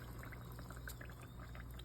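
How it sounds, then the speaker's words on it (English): Tomato sauce is poured into a blender in a kitchen, a faint continuous liquid pouring and gurgling under steady low background hum, with no voices. "I'm gonna pour it in there."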